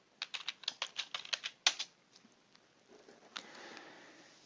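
A password being typed on a computer keyboard, a quick run of about a dozen close key clicks followed by a few scattered presses and faint rustling.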